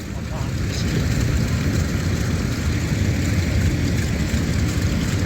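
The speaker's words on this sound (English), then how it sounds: "Someone just left their tractor in the middle of the road." A tractor's engine idles and rumbles steadily on a road, a continuous low droning roar with broadband noise, close and fairly loud throughout.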